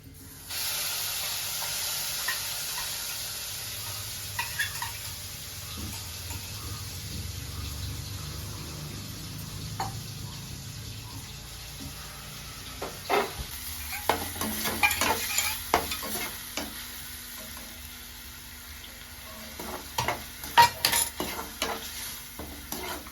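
Spices for tamarind peel chutney sizzle in hot oil in a pan, with a hissing fry that grows busier and crackly midway, punctuated by close stirring clatter and no talk.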